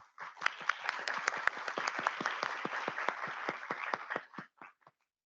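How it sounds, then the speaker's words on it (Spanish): An audience at a talk on accompaniment through illness and grief claps in a dense, steady round of applause that builds quickly, holds for about four seconds, then thins to a few scattered claps and stops. "la recibimos con un fuerte aplauso"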